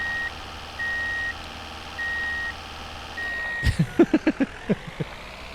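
A small truck in ContractVille backs up with evenly spaced electronic reversing beeps, four long tones at steady intervals, followed by a quick run of short clunks and knocks near the end.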